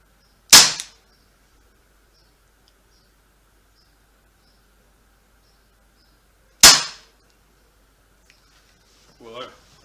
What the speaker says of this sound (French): je vais effectuer les 4 tirs